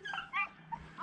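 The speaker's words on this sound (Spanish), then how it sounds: "los perros vienen ladrando ahí" Beagles bay and yip at a distance in brushy countryside while tracking a rabbit during a hunt, giving a few short, faint cries over outdoor ambience.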